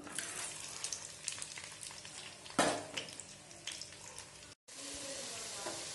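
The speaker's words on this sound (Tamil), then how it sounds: "எண்ணெய் நல்லா காஞ்சதும் இதில் பொடியாக நறுக்குன்னு மூணு பெரிய வெங்காயத்தை ஆட் பண்ணிக்கலாம்" Chopped onions sizzle and crackle steadily in hot oil, with one sharp clatter partway through and a brief cut near the end.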